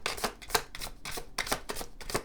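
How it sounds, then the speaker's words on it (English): A tarot card deck is shuffled in a series of quick, crisp riffling bursts, about eight short flurries in rhythm, close and alone. "Let me give this deck a shuffle."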